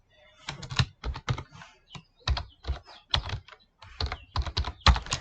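Quick bursts of typing on a computer keyboard while HTML table code is written, clustered keystrokes in short uneven runs separated by brief pauses, close and clear.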